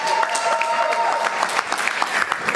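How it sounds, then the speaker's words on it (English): Audience applause at a public safety community meeting, dense clapping with scattered sharper claps standing out, fairly loud and close, with a faint steady tone running beneath for the first half and no speech. "No applause is needed."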